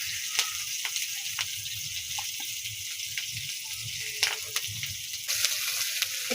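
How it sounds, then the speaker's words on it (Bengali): Green chillies, chopped onion and nigella seeds fry in hot oil in a pan, a continuous close sizzle with small crackles and occasional stirring clicks, no voices. "একটু ভাজা ভাজা হবে, তারপরে মশলাটা দিয়ে দিব।"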